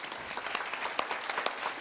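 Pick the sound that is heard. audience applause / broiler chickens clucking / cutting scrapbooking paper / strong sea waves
audience applause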